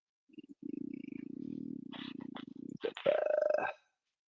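A house cat purrs steadily and close, a low continuous rumbling that runs for a few seconds before breaking into a brief meow-like call at the end.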